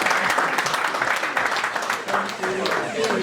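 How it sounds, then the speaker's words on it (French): A room full of people applauds at an end-of-year celebration, steady dense clapping throughout, with voices mixed in beneath it. "On peut applaudir pour nous-mêmes d'abord."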